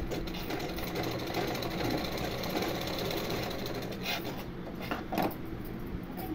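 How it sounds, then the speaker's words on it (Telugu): A sewing machine runs a continuous double stitch along a blouse seam, its fast steady whirring rattle holding close and even throughout, with a few brief handling knocks near the end. "డబల్ కుట్టు వేసుకుంటున్నాను"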